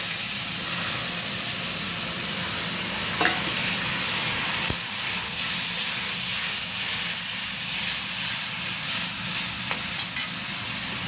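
Tamarind water poured into hot oil with fish roe and tempering spices sets off a loud, sustained hiss and sizzle, with occasional stirring clicks over a steady frying roar.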